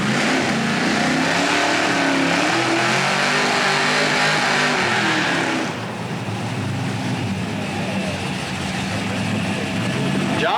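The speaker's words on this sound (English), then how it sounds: "Drag race right there." Drag race cars at Centerville Dragway roar hard under acceleration, a loud, sustained engine blast with rising pitch that drops off and gives way to a lower, rougher engine drone.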